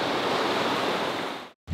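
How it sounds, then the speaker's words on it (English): Steady rushing water from a river running through rural land in California, a broad close hiss that cuts out abruptly near the end before a brief low thump. "This is really cool to have a river on the land."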